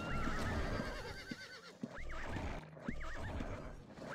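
Horses in the video game Ultima Online neigh and whinny repeatedly in a rising, quavering cry, mixed with clip-clop hooves and busy game noise throughout, no talk.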